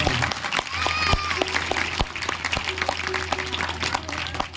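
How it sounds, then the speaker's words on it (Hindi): Audience at a village Shrimad Bhagwat Katha gathering claps loudly for three musicians, a dense, steady applause lasting several seconds with faint sustained tones underneath. "एक बार इन तीनों के लिए जोरदार तालियां बजा दो,"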